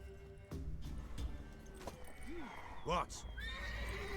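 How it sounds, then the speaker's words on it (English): A mare's neigh in the video game The Witcher 3, a wavering whinny heard close among clip-clopping hooves and background ambience, with a voice speaking briefly. "Worthy of the best horse. The mare is yours."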